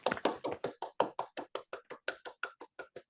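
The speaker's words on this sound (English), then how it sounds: "Let's give him another round of applause." A few hands clap in a steady, quick rhythm after a mathematics lecture, sharp even claps that fade slightly toward the end, with no talking.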